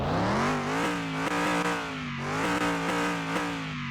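Car Mechanic Simulator 2021 Hudson Hornet with a single overhead cam V8, revved repeatedly in steady throttle blips, its engine note rising and falling in a loud, close, throaty drone.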